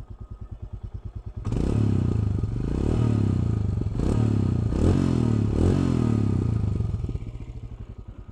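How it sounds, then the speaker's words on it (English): A Royal Enfield Himalayan adventure tourer idles with a thumping beat, then its exhaust swells into a loud, throaty rev held for several seconds with a few pulsing blips before easing back down to idle. "So this is the exhaust sound. Kind of sounds very throaty, very nice."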